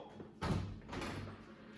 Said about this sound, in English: Oh, don't you dare open that door.